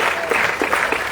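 Outdoor crowd applause at a city band concert, a continuous wash of clapping from many hands, fairly loud and steady for the whole moment.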